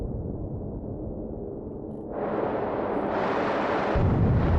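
A deep rumbling blast swells into a louder, brighter roar, a spaceship explosion in the game The Last Starship, building over a few seconds with no voices.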